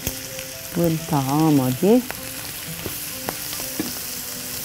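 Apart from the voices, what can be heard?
shrimp frying in a hot pan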